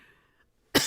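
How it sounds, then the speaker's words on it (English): A single short, sharp cough bursts out near the end, loud and close, following near silence with a faint voice trailing off before it. "that is like me actually coughing"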